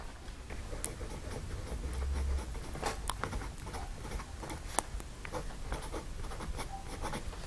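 A 1952 Aurora 88 fountain pen nib scratches softly across paper in close-up, with faint continuous strokes punctuated by small ticks and taps, quiet and alone.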